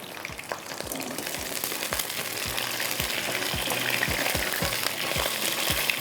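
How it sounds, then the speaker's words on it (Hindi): Eggplant fries in a pan, with a steady, close sizzle of hot oil and a string of soft, regular thumps beneath it throughout. "अब इसको मैंने थोड़ा सा फ्राई करना है बैंगन को।"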